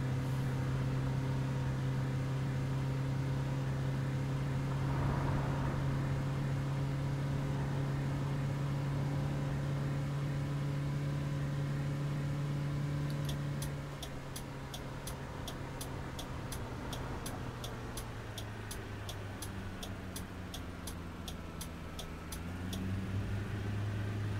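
A coach bus labouring at full throttle in Fernbus Simulator gives a steady loud engine drone that holds one pitch while gaining little speed. A dip and a gear-like shift come near the end, and a light ticking runs over the middle section.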